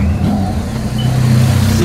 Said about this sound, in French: l'escorte moto